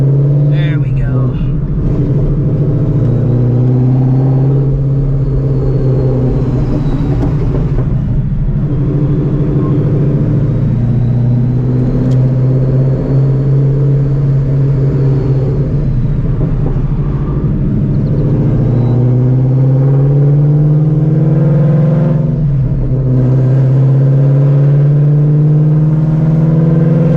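A Ford Mustang GTD accelerates hard on the road, its engine rising and falling in a loud, close rumble through repeated revs, with someone talking over it.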